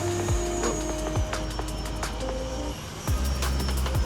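A small FMS Futura 64mm electric ducted-fan RC jet loops overhead, its steady whooshing turbine whine swelling and fading as it passes, with faint thumps near the microphone and no talking.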